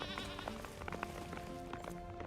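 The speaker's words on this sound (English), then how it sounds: "Also, why are there goats up here?" Goats in Return to Moria bleat faintly in the distance, a few wavering calls over a dense, murky game soundscape.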